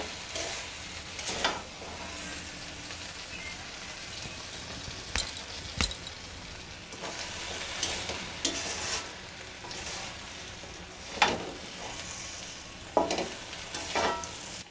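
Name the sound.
jujube pickle cooking in a pan on low heat, sugar melting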